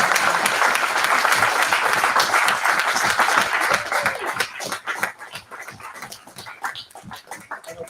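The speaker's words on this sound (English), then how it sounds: "So please, a big applause to the team." A crowd applauds at a startup bootcamp pitch event, dense and loud at first, then thinning into scattered individual claps with a few cheers as it fades.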